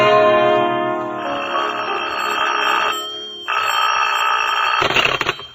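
A telephone bell rings in a 1940s radio drama: a loud, close, metallic ring that sustains, breaks off briefly, then rings again before a clatter at the end, with no voices.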